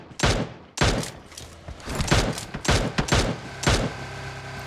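Gunfire in PUBG Mobile: about eight sharp, punchy shots fired in quick irregular succession, close and loud, each with a short booming tail.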